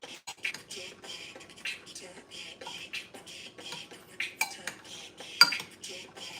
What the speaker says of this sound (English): Stir this up for a bit.